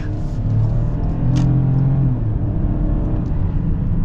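A 2024 Ford Bronco Sport accelerates hard, its engine droning loud and close with a rising, strained hum over steady road rumble, then settling into a lower, even tone; no one speaks.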